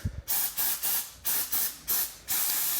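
CRC Pro Series brake cleaner sprays from a large aerosol can onto Cadillac CTS-V brake parts in a series of six loud, hissing bursts, each about a third of a second, with brief pauses between.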